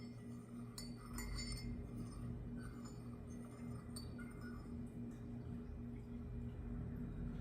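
A metal jam spoon stirs tea back and forth in a cup, making light repeated clinks against the ceramic at close range over a faint steady background hum.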